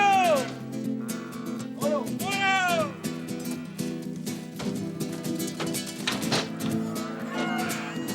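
Santa Gertrudis cattle on a Texas ranch mooing in several drawn-out calls, mixed with a speaking voice and other ranch sounds.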